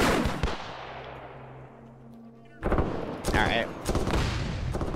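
Gunfire and booms in the Arma 3 video game, with a sharp shot ringing off into a fading tail, then renewed bursts of fire; a voice speaks briefly over it.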